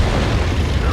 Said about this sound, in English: Now he fires the artillery.